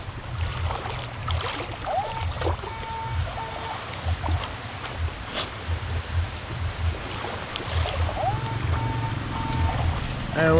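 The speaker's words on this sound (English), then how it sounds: "I really love the sound of the Excalibur 2." Minelab Excalibur 2 metal detector tones beeping in short repeated bursts during an outdoor hunt, heard over rushing water and wind with some talk.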